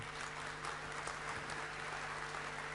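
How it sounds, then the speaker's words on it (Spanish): Audience applause for teachers at an academic talk on bioeconomy, a steady wash of clapping heard faint and distant, continuing evenly throughout. "brindemos un aplauso fuerte a todos aquellos que se dedican a la docencia"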